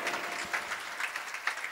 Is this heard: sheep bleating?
no